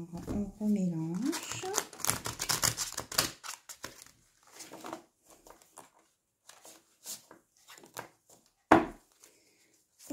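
Tarot cards are riffled and shuffled in quick, crisp flurries of papery clicks, with a voice speaking over the start and sparser card taps and slaps following.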